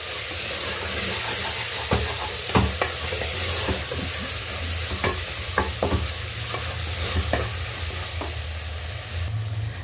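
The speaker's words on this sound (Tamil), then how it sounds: "தயிர் விட்டு இதையும் நல்லா மிக்ஸ் பண்ணிக்கணும்." Soya chunks and curd being stirred in a cooking pan for a soya chunk biryani, with a spoon scraping steadily against the pan over a constant frying sizzle and hiss, close and unbroken, with no talking.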